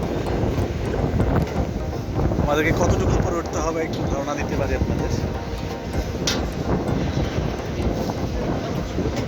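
Strong wind buffets high up on a temporary staircase climbing the Padma Bridge rail viaduct, a rough, continuous rumble and roar beating against the microphone while someone speaks throughout.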